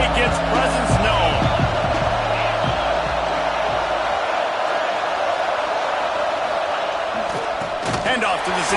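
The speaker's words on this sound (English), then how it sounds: "This crowd ready to make its presence known." Football stadium crowd at a Tennessee game, a dense roar of many voices with thuds and rhythmic slams early on, swelling and sustained throughout while an announcer talks over it.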